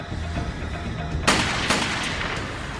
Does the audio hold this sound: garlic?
no